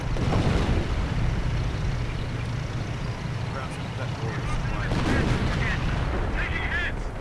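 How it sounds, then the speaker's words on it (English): Howitzer artillery fire in a strategy video game, with booming shots and whistling shells blending into a continuous battle din as someone commentates steadily over it. "howitzer once more opening up, flying through the air"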